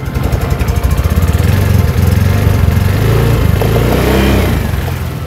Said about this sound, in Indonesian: mesinnya nyala ya, udah nyala. Motornya juga sudah menunjukkan RPM berada di 2000 sampai 1800.